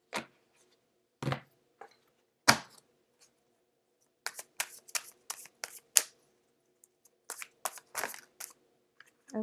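Tarot cards being shuffled for a Valentine's Day romance reading, heard as bursts of crisp riffling and snapping card noise in short clusters with quiet gaps between them, close to the mic and with no talking.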